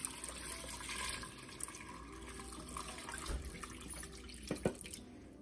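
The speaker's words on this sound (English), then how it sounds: "And then you're just gonna take and cover the potatoes up with water." Tap water runs steadily over diced potatoes in a crockpot, a continuous close splashing and filling sound with a few brief drips near the end, no talking.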